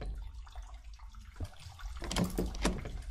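A faucet running in the horror video game Shadows 2: Perfidia, a hissing water stream with a soft start, then a louder splashing burst in the second half, heard alone without talk.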